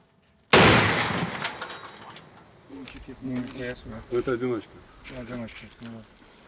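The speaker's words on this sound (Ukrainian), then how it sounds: "Постріл!" A single loud, sharp gunshot bursts out and rings off, followed by a voice talking.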